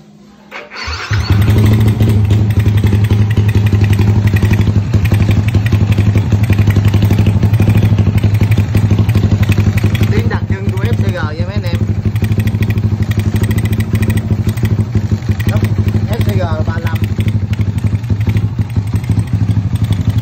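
Yamaha Exciter motorcycle with a 68mm bore and FCR 35 carburetor idles loudly and steadily after starting, with a few quick throttle blips near the end, heard alone close up at night.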